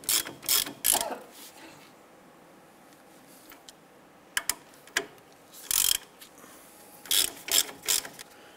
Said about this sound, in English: let's go ahead and run those down and snug them up